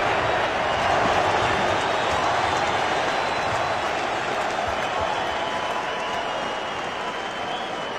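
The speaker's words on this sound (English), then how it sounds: "the crowd chants Holyfield" Arena crowd at a Mike Tyson versus Evander Holyfield boxing match roars steadily, a dense wash of cheering and chanting for Holyfield that stays loud and continuous throughout.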